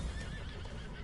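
Horses hitched to wagons in the video game Red Dead Online whinny over a brief bed of hoof clops, all packed into about a second of steady, moderately loud game sound.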